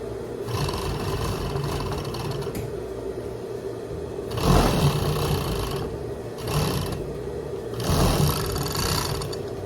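Sewing machine stitching the thin lining of a raglan jumpsuit, running steadily with a continuous whirring hum that surges louder in three bursts as the stitching speeds up, close by with no talking.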